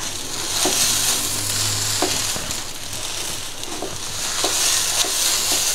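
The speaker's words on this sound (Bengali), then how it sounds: "আমি এখন এটা ভালো করে ভেজে নিব পোলাও চালটা।" Polao rice fries and sizzles in a pan while it is stirred, with a steady crackling sizzle and periodic scraping strokes of the spoon throughout. It is being toasted before water is added for beef biryani.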